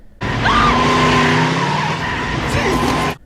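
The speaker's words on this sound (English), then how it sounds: "this movie also has one of the worst car crashes I've ever seen" A car in a Texas Chainsaw Massacre film skids with loud screeching tires in a crash scene, one sustained squeal of about three seconds that starts and stops abruptly.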